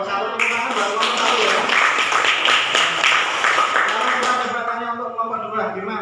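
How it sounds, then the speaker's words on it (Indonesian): A classroom of students claps together for a group, steady, dense applause lasting several seconds and fading out at the end. "Kelompok 1 tepuk tangan buat kelompok 1 ya."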